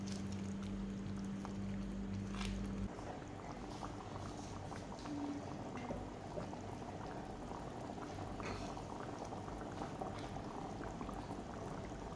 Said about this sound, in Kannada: ನೋಡಿ, ಒಳ್ಳೆ ಕುದಿ ಬರ್ತಾ ಇದೆ